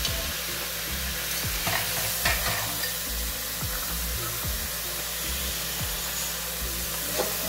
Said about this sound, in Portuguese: Deixa aqui a cebola refogando mais um pouquinho.